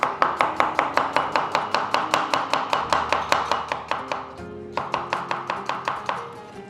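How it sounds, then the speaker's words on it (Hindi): A knife chopping vegetables on a board for balti pakoras: close, crisp, evenly spaced chops in a fast steady rhythm, about two dozen strokes with one short pause before the chopping picks up again. "इस तरीके से आपने इसको कटिंग करके इसको अलग अलग करना है"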